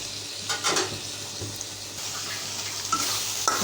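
Spice paste for a fish curry frying in oil, a soft sizzle with a few scattered stirring scrapes and clinks, fairly quiet and close, with no talking.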